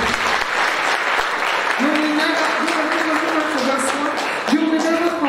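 Church congregation applauding during a charismatic worship service, a steady wash of clapping and cheering under a preacher's raised, sung-out voice.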